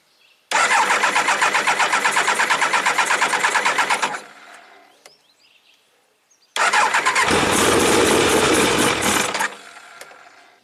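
A 1999 Triumph Trophy 1200 motorcycle with the choke partly on cranks over loudly up close in two long starter bursts separated by a short pause. The second attempt sounds heavier and rumbles low, with no voices.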